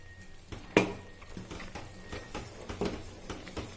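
A spoon stirs ariselu batter in a pot, giving soft, irregular scrapes and one sharper clink against the side, moderately close with no voices.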